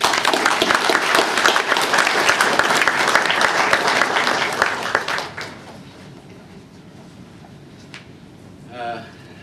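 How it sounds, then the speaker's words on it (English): Dense, loud audience applause fills the hall at a Governor General's address for about five seconds, then drops away to quiet room tone with a few faint stray sounds. "we just give another round of applause"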